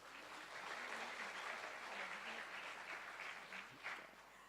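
Steady applause from an audience at an evening children's language festival show in South Kalimantan, a fairly faint, continuous wash of clapping that lasts throughout without a break.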